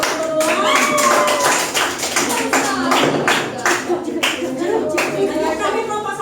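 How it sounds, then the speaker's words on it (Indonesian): Students in a classroom clap for two classmates who have just presented, a burst of distinct, uneven hand claps, close and fairly loud, with some voices mixed in. "tepuk tangan sekali lagi untuk berdua."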